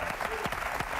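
Audience applause in a television studio for a singer, a steady dense wash of clapping that is loud and continuous, with no talk over it.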